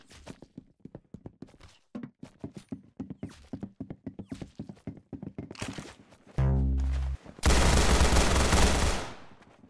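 Rapid game gunfire from a Roblox Arsenal shooter match, a fast run of sharp cracks and thunks through most of the stretch, ending in a louder sustained burst and a harsh noisy blast.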